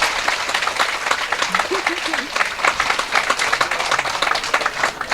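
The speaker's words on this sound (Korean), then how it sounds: "아유 저 박수 한번 공양 좀 올려주시다." Steady applause from an audience at a Buddhist Seon meditation dharma talk, dense and continuous for several seconds, with faint voices mixed underneath.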